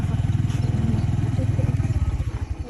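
A scooter being ridden uphill on a road up toward a hillside village, its small engine chugging in a fast, steady pulsing putter, loud and close, with the rider faintly audible over it.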